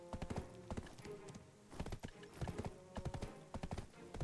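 An untrained, ungeared horse trotting in the game Black Desert, its hooves clip-clopping in quick regular bursts with short pauses between them, fairly quiet and close, with no voices.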